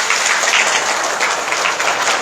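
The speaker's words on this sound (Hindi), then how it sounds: "एक बार ताली बजाओ" A dense, loud burst of applause from the listeners at a Srimad Bhagwat Katha religious discourse in Aligaon, Delhi, many hands clapping together in a sustained, even roar with no voice over it.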